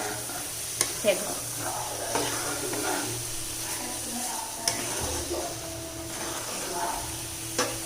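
Ghee, coconut oil and milk-solid ghee sizzling in a pan while making khadim pak, a steady quiet frying hiss with occasional stirring clinks.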